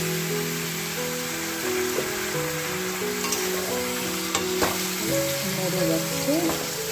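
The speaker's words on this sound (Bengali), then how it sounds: "এর মধ্যে চিকেন আলু একসঙ্গে আমি ভেজে নেব।" Chicken and potatoes fry together in spiced oil in a karai, giving a continuous close sizzle with occasional stirring clinks, alone and without talk, over faint steady tones in the background.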